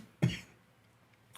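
One sharp, close cough rings out from a man with a lung issue, followed by near silence.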